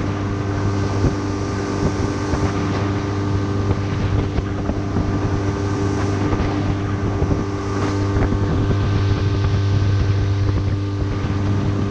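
A fishing boat's outboard motor runs steadily on a river while fishing for smallmouth bass, a constant drone with wind buffeting the microphone throughout.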